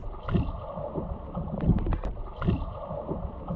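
Muffled underwater churning and splashing in a pool with periodic surges, a swimmer's steady kick pattern of one kick per stroke repeating about once per second, close by.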